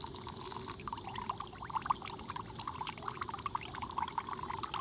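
Fresh coconut juice pours from an opened coconut into a cup, a soft, continuous close trickle with faint splashy flickers throughout.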